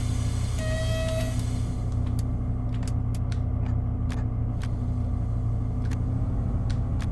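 Deep steady idling rumble of a BR 294 diesel shunting locomotive in Train Sim World 6, with a brief tonal whine early on and sharp clicks and clanks scattered over the continuous drone.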